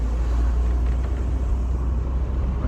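A Mercedes SLK R170 rolls slowly along local streets after new rear brake discs and pads, a steady loud low engine and road rumble filling the cabin continuously with no talking.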